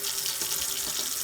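Lukewarm water running from a kitchen tap to rinse black-eyed peas, a steady hissing stream, close and fairly loud, with no talk.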